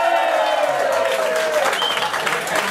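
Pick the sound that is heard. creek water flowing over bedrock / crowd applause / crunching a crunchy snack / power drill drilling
crowd applause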